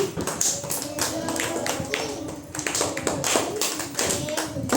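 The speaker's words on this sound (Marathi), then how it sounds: "शाबास आनंदाची टाळी वाजवा" Children clap their hands in a classroom game, a steady run of sharp, dense claps repeating throughout at close range.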